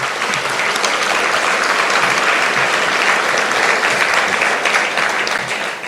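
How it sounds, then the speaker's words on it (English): Sustained applause fills a hall after a memorial lecture at the Eastern Caribbean Central Bank, a loud, dense wash of many hands clapping continuously and evenly throughout. "Let's give him another round of applause."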